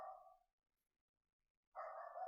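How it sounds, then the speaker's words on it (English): In a recording studio, a dog gives a short bark or yelp at the start, then falls quiet before barking again more strongly near the end, all fairly faint. "our studio dog who likes to disturb things"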